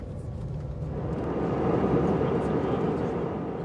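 An airplane roars with a broad, steady rushing drone, fairly loud and swelling slightly in the middle before holding level, with no other distinct sounds on top.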